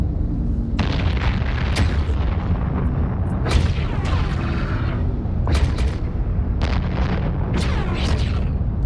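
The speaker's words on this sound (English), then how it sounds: "Lasers and missiles." Weapon fire from the space game Eve Online, with lasers and missiles: repeated booming blasts and sharp pops at irregular intervals over a steady low rumble, some shots followed by ringing, sweeping tails.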